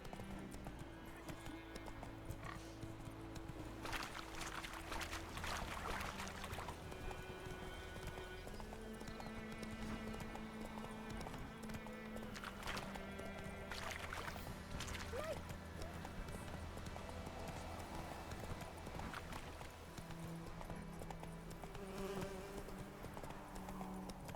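Horse hooves clip-clop steadily in The Witcher 3: Wild Hunt, a rhythmic trotting under game music, with voices talking over parts of it.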